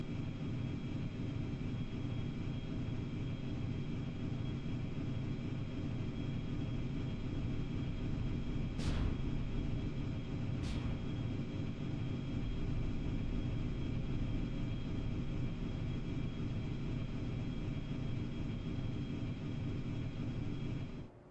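A jet fighter roars in a flight simulator game, a steady loud engine drone with two brief sharp clicks midway, then cutting off abruptly at the end; no talking.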